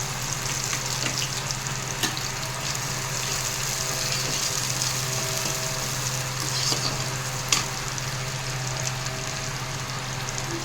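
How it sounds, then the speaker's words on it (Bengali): Nigella seeds, chopped onion and two green chillies sizzle in hot oil in a steady, close hiss over a constant low hum, with occasional faint clicks of a spoon and no talking. "এবার এই তেলের মধ্যে একটু কালো জিরে, যে পেঁয়াজটা কেটে রেখেছিলাম ওই পেঁয়াজটা, দুটো কাঁচা লঙ্কা"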